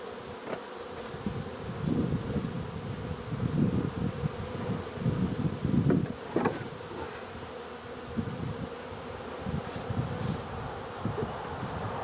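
Honeybees buzz around a nucleus hive outdoors, a dense steady hum with individual bees droning closer and fading, moderate in level over faint wind.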